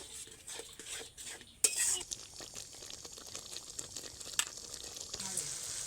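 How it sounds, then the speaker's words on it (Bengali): Masala paste for an egg curry is stir-fried in oil until the oil separates, with a soft steady sizzle broken by scraping stirs and occasional metallic clanks of a spoon on the pan. "মশলাটা আমি তত সময় পর্যন্ত কষাতে থাকবো যত সময় না পর্যন্ত মশলা থেকে তেল ছেড়ে ছেড়ে যাচ্ছে"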